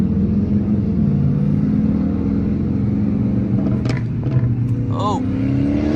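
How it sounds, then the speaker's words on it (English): A supercharged V8 Dodge Charger R/T engine drones steadily and loudly from inside the cabin on a highway, building slightly as it accelerates, with a brief voice near the end. "I'm trying to get some highway action so y'all can hear the supercharger"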